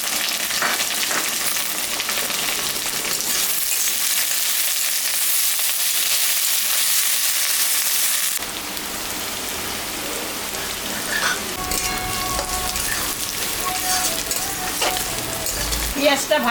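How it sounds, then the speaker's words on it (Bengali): Chopped onion and garlic fry in hot oil with dried chillies, cumin and bay leaf for a thin country-chicken curry, a dense steady sizzle with occasional stirring scrapes that grows busier and more uneven partway through. "পেঁয়াজটা ভাজা ভাজা হয়ে গেছে,"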